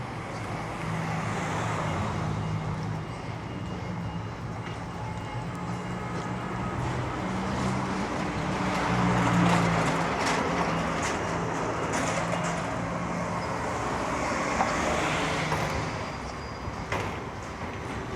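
Steady street traffic rumbles along a busy town road as cars pass at moderate distance, a continuous mid-level wash of engine and tyre noise with occasional louder swells, recorded while walking.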